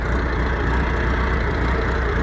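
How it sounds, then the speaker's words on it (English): Massey Ferguson skid steer engine idling after a revival, a steady low rumbling chug close by, even and continuous, with no voices. "she's idling on the fuel in the tank"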